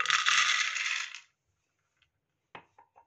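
Raw peanuts pour onto a baking tray for roasting in a gas oven, a bright rattling cascade lasting about a second, followed by silence and then a few small, close clicks as stray nuts settle.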